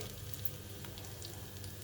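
Cumin and mustard seeds sizzle in hot oil in a kadai, a steady, faint, close crackle that holds unchanged throughout with small pops, and no voices.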